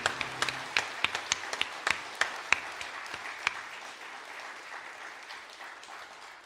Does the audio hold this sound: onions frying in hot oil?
no